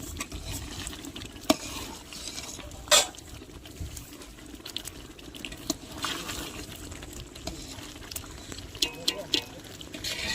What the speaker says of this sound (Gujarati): પછી સિંગ અને ચવાણુંનો ભૂકો નાખી દેવાનો। એમને પણ હલાવી અને અંદર મિક્સ કરી દેવાનું.